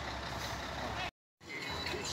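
A truck manoeuvres with loud, steady engine rumble and broadband noise, broken by a brief gap before the drone resumes; the reversing beeps are not clearly distinct.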